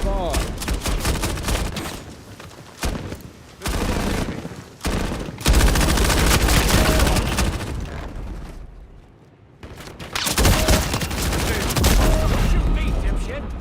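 Rapid automatic gunfire bursts and volleys from MW4 multiplayer combat come loud and dense over about fourteen seconds, with short gaps and a brief lull, and players' voices are mixed in.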